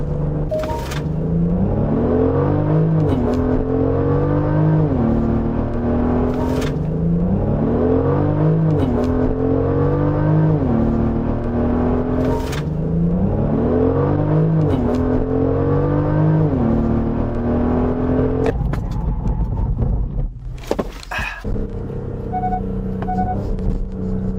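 A Genesis GV70 3.5T with a 380-horsepower engine launches from standstill with launch control, its engine revving hard through repeated rising pulls separated by brief gear-shift dips, loud and close, with a pause and wind rush near the end.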